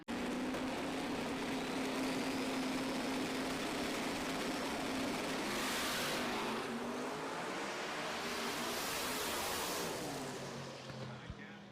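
Drag racing car launching and accelerating down the strip at a Shakedown eliminations event, a loud continuous engine roar that swells and sweeps as it pulls away, fading near the end.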